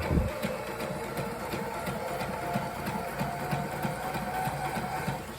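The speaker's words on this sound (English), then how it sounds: "The head patch that she's sewing to the jib." A sewing machine stitches a head patch onto a jib sail for a Wharram Tiki 21 catamaran, a steady, fairly close mechanical whir with a rapid pulsing rhythm from start to finish.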